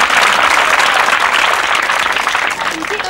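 An audience claps loudly for a pair of dancers just after their performance, a dense, close burst of applause that stays strong throughout.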